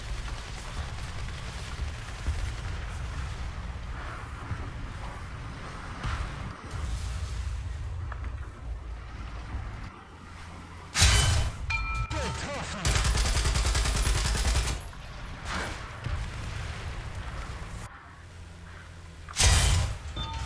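Heavy tank cannon blasts and explosive bursts from a video game boom over a constant tank engine rumble, with several loud impacts spaced across the stretch.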